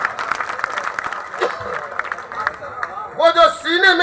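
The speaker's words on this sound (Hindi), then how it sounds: "एक बार जोरदार तालियां बजा के बताइए।" Audience applause at a Hindi-Urdu poetry recital, an All India Mushaira in Deoband, a steady wash of clapping and crowd noise across the whole stretch, with a voice speaking over it near the end.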